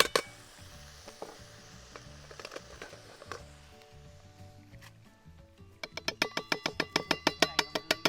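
Cooked onions and mushrooms sizzle softly in a pan at a riverside wild camp, with scattered scrapes and knocks, then a quick run of sharp metallic scraping taps as the food is emptied into a bowl.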